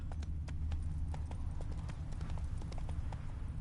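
Horse hooves clip-clop in a steady trotting rhythm inside a PS4 video game, clear and fairly close over a low rumbling backdrop.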